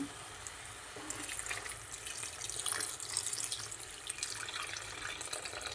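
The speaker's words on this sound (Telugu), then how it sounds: "వాటర్ అయితే కొద్దిగా పోసేసుకున్నాము." Water runs and splashes steadily into a cooking pan at close range, a soft continuous hiss and patter with no talking.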